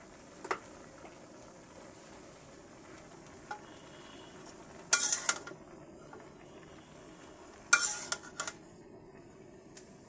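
Chopped bottle gourd greens added to a frying pan and stirred, a faint low sizzle under sparse utensil scrapes and two louder clusters of clinks and rustles against the pan.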